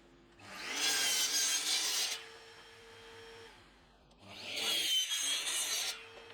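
A saw trims wood cabinet panels in two loud cutting passes, each about two seconds long with a short quieter gap between them, bright rasping noise close by with no talk.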